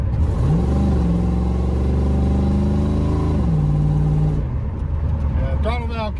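A straight-piped 1984 Chevrolet Camaro Berlinetta engine revs loudly and holds a raised, droning pitch for several seconds before dropping back, with a voice talking over it near the end.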